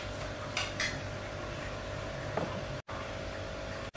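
Metal steamer pot and lid clink and clatter faintly in a kitchen while dumplings are readied for steaming, a few brief knocks over low background hiss.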